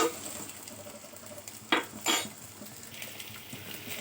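Chopped bell peppers with spices stirred in a pan, a few distinct scraping and clinking strokes of a utensil against metal over a soft background hiss.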